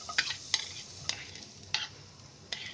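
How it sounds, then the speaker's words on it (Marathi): Brown rice frying in a kadhai gives a quiet, soft sizzle, broken by about five sharp clicks of a spoon scraping the pan at uneven intervals. "आता मी त्याच कढईमध्ये आहे ना भात फ्राय करते"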